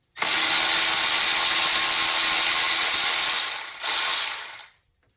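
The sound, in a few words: ratchet with extension loosening AC compressor bolts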